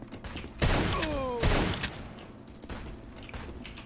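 Gunfire in a John Wick simulator game, Maximum Action: two loud close shots in quick succession with ricochet whines, followed by fainter scattered pops over background game noise.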